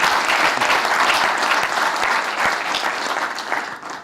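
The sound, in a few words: audience applause greeting panelists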